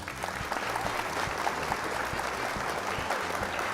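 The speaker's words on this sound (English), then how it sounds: "Applause." An applause sound effect played during a viewer race, steady clapping from a crowd that stays even and moderately loud throughout, with no voices over it.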